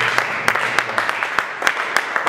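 A church congregation applauding, with a steady patter of many hands and sharper individual claps standing out, close and fairly loud.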